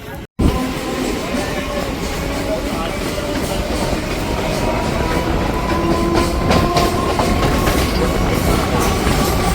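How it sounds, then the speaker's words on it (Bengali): Local train on the Howrah-Amta line pulling out of Domjur station, with a steady, loud rumble of wheels and carriages rolling along the rails, heard from on board after a brief cut at the start. "আর ট্রেন আমাদের ছেড়ে দিল ডোমজুর স্টেশন"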